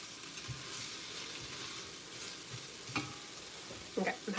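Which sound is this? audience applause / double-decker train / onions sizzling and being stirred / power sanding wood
onions sizzling and being stirred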